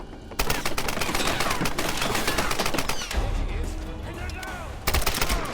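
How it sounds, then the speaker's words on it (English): Rapid bursts of gunfire in the video game Tomb Raider, loud and close, with repeated automatic shots in clusters separated by brief gaps. "Shooting at me is actually so rude."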